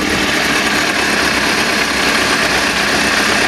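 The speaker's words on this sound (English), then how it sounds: "I'm going to put my hand over the end so you can hear the motor itself." A 1999 Suzuki GSXR600 motorcycle idles with a hand held over the end of its exhaust. The result is a steady, close, loud mechanical hum and whir of the bare engine, even and unbroken throughout, with no voices.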